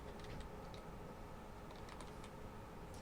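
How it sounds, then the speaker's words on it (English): Someone types on a computer keyboard at a Linux terminal. The light key clicks sound quiet and fairly distant over faint background hum, and no one speaks. "I'm going to put space and type in letters."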